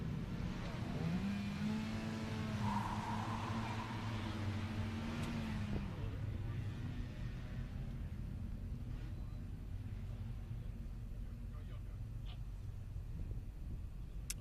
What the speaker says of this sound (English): John Smith just crossed the finish line in his BRZ.